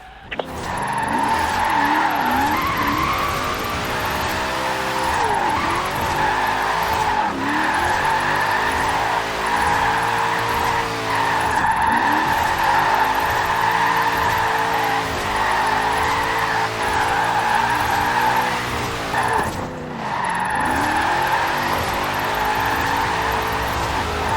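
A car drifts in Forza Horizon 4, its engine held high and droning steadily under long, continuous tire squeal, with the pitch dipping and surging in waves as the slide is held.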